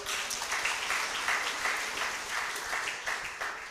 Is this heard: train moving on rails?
no